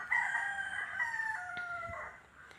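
A rooster lets out one long cock-a-doodle-doo, a clear drawn-out crow heard moderately close over a quiet background, fading at the end.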